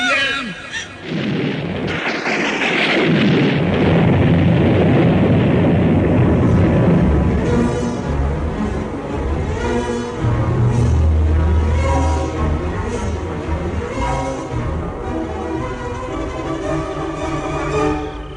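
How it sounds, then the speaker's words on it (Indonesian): A deep rumble of thunder rolls and booms loudly, swelling then lingering, with a dense wash of noise like heavy rain throughout. "Ketika hujan deras, suaranya gemuruh, disertai petir yang meledak-ledak."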